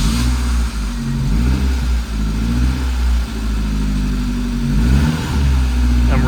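A Saab 900 Turbo that keeps trying to stall rumbles loudly at a rough, uneven idle, its engine note rising and falling as it is blipped with small revs to keep it running.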